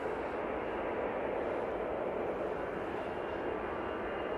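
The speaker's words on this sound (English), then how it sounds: "Easyjet now on the roll" EasyJet airliner on its takeoff roll at Manchester Airport, a steady broadband engine roar heard from a distance, continuous and unchanging with no talk.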